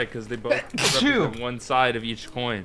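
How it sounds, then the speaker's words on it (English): A single loud sneeze bursts out in the middle of ongoing conversation, with people talking before and after it. "keep that sneeze in the video"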